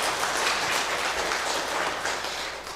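Steady applause from a church congregation at a Sunday service fills the whole stretch, a dense even patter of many hands clapping, fading slightly at the end.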